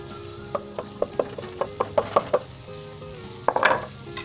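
Potatoes with methi and spices fry in a pan for aloo bhujia, a low sizzle broken by a quick run of sharp spoon knocks and scrapes against the pan, then a louder clatter near the end, with no voices.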